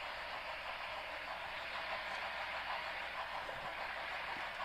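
Conrail locomotive prime mover droning steadily in a train simulator game, a constant even diesel rumble and hiss at moderate level with no talking.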